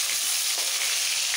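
Vegetables including pumpkin drop into hot spiced oil in a frying pan, giving a steady bright sizzle and frying hiss for a brief moment without talk.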